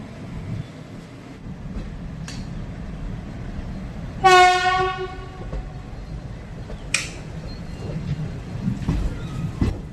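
A passenger train's horn sounds at close range over a steady low rumble near Shoranur Junction, with sharp clanks and brief higher tones around it.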